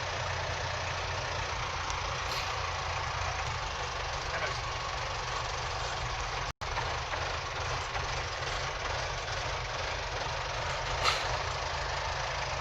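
A 4x4 offroad jeep engine pulls steadily in standard 4x2 gear at moderate speed, a continuous low rumble with road noise throughout and one brief cut in the middle.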